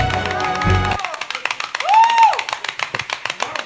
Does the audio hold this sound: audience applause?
yes